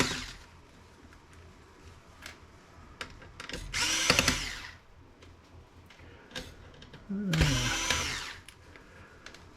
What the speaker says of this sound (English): where my drill go? Got a few more screws here.